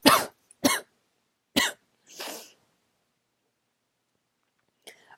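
Several sharp coughs close to the microphone, three in quick succession and a throat-clearing rasp, then quiet with a faint final sound.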